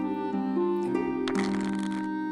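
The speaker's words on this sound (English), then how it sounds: "I shuffle the deck." A brief riffle of cards shuffling in the video game The Arcana, a quick papery flutter over a sustained musical tone, heard once near the end.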